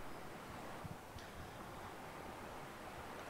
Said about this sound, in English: I hate whenever in the loading screen you just hear the water.